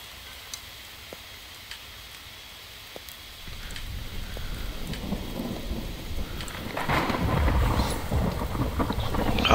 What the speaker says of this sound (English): Ah, it's a hell of a storm.